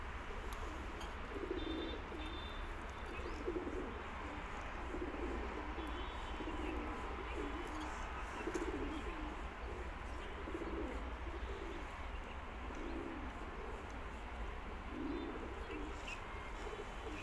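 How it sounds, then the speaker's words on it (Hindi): A sick, sluggish pigeon kept apart from the others gives soft, low coos that repeat steadily under a constant background hiss, with no voices. "ये हमारा जो कबूतर सुस्त है, इनको हमने अलग रख रखा है"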